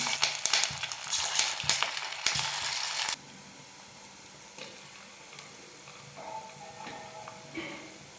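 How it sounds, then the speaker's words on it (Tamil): Semolina bondas fry in hot oil on a medium flame, with a loud crackling sizzle and sharp pops up close that drop suddenly to a quieter, steady bubbling hiss with occasional light clinks. "இந்த ஸ்டேஜில் அடுப்பை மீடியம் ஃப்ளேமில் வச்சுட்டு இந்த போண்டாவை கொஞ்சம் கொஞ்சமாக போட்டுடலாம்"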